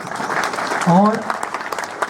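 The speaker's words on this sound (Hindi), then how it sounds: "तो इस चीज के लिए एक बार सर के लिए जोरदार तालियां।" Applause from a crowd at a police post inauguration, clapping under a voice speaking briefly in the middle.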